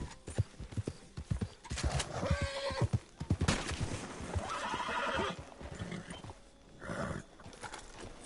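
In Red Dead Online, a horse's hooves clop in quick, uneven bursts and it lets out a loud, quavering neigh, close and clear with little else around it.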